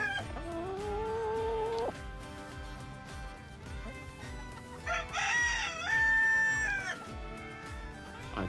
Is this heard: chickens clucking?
yes